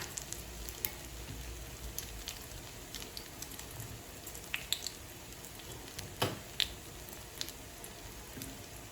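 An egg fries in hot oil with shallots, Jaffna style, with a faint, steady crackling sizzle and scattered sharp pops, close by and without talking.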